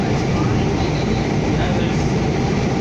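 An Edmonton ETS SD160 light rail car, number 1057, rolls southbound on the Metro Line, heard from inside as a loud, steady rumble and roar of wheels on track.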